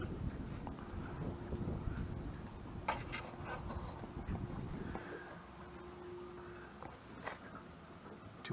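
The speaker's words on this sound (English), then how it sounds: "Wind's picking up" Wind noise buffets the microphone aboard a Tanzer 8.5 sailboat on the Richelieu River, a steady low rumble that eases partway through, with faint water and creaking sounds over it.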